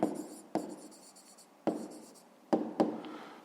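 Pen writing numbers by hand on paper, a few short close scratchy strokes separated by pauses, quiet and alone.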